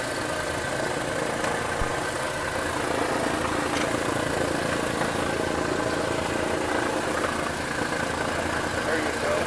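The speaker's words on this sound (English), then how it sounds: "we got this first engine running over there" A Douglas DC-3 piston engine runs just after start-up, producing a steady, dense roar with a rough mechanical texture that holds loud and unbroken throughout.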